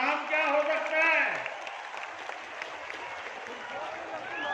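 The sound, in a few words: crowd applause at a rally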